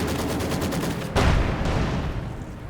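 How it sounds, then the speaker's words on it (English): Heavy Maxim machine gun firing in Company of Heroes 2, a rapid steady burst of loud clattering shots with a sharp heavier blast partway through, no voices. "Infantry marching through heavy machine gun fire there. But Hans's Maxim definitely doing the deed."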